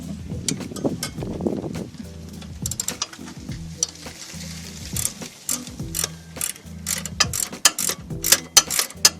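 Ratcheting wrench turning a bolt during strut replacement on a 1986-1991 Cadillac Seville or Eldorado, rapid rhythmic clicking ratchet bursts repeating in short strokes, close and loud with metallic clinks between.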